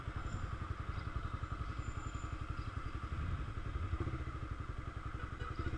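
A Honda CB300R motorcycle engine putters with a steady, rapid rhythm, fairly quiet and continuous, as if riding along at low speed.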